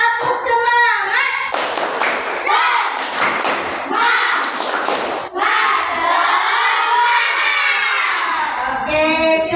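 A classroom of students performs the rhythmic 'tepuk semangat' clapping chant, with sharp patterned claps and loud group voices chanting and shouting together throughout.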